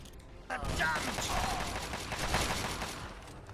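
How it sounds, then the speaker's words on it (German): Gunfire in Fallout 3, a sustained burst of rapid shots and mechanical clatter starting abruptly and continuing densely for about three seconds, fairly loud. "Doch auf mich zu schießen, ihr Idioten."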